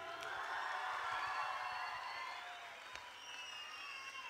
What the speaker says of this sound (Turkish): Efsane Duman için bir alkış diyelim.